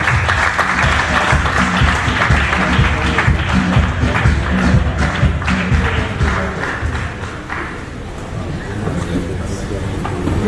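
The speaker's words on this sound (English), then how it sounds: "Please, can I give you a round of applause?" An audience at a young lawyers' forum applauds, a dense sustained clapping with crowd noise that swells and then eases slightly toward the end.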